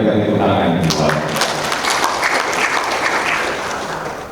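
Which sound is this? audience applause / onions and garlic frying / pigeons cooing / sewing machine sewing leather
audience applause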